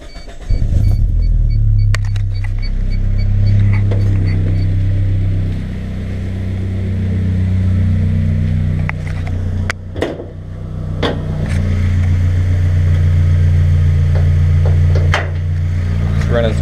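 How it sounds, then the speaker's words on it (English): A black Suzuki X90's engine idles steadily in a low, even rumble, with a few brief clicks and knocks over the running motor. "Pop the hood and get it running."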